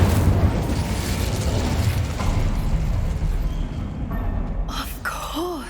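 Incendio fire spell cast in Hogwarts Legacy, a steady roaring whoosh of flame with crackling bursts running throughout, followed by a brief sharp flare and chiming magical tones at the end.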